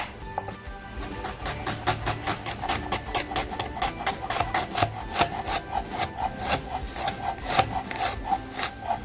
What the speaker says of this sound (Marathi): अगोदर कांदा टॅमॅटो कापून घेते